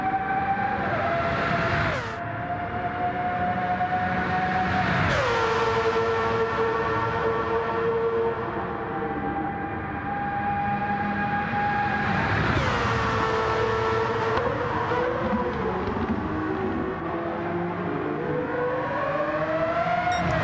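A race car in the sim racing game GT1 Classics howls at high revs through a 24-hour endurance race, the engine note rising steadily and then dropping sharply at each gear change, loud and continuous.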